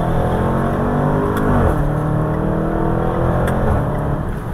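Fast SUV's engine, capable of 0 to 60 in 4.3 seconds, revving and accelerating with a continuous loud, close drone and rising pitch sweeps from inside the car, no talking.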